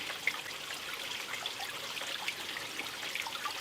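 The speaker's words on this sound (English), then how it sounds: "I'm going to very carefully just sink the cup in and allow that top water to enter my cup" Surface water trickles and flows into a cup sunk carefully below the waterline, a steady soft gurgling stream with small bubbling pops, close and fairly quiet, no voices.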